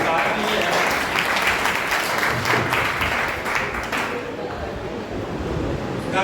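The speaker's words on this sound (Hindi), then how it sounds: "सबसे पहले तो जोरदार तालियां अपने लिए बजाइए।" Loud, dense applause from a crowd of students and guests at a school or college gathering, continuous throughout and thinning slightly toward the end.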